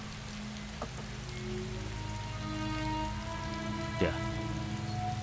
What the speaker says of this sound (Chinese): 这雨还下着呢